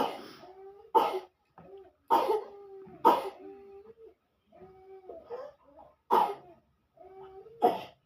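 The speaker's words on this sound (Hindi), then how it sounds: "हमारे बाबा को खांसी हो रहा है" An elderly man coughs repeatedly in short, harsh bursts, spaced a second or so apart, with quieter wheezy breaths and throat sounds between them.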